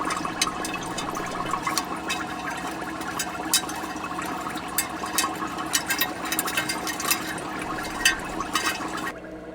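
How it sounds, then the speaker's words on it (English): Gold-plated pins are stirred in an acid peroxide solution above a basket coffee filter. The liquid sloshes continuously, with scattered small clinks and splashes. "So I give it a good stir just to get things kind of moving around in there."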